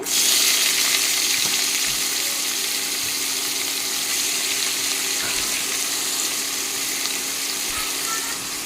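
Star potatoes dropped into hot oil, a loud, steady, hissing sizzle heard up close for the whole stretch, fading slightly toward the end, with no talking.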